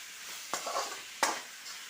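Tomatoes with green chillies sautéing in a pan for chicken curry, a soft sizzle broken by two sharper scraping stirs of a spoon, quiet and close.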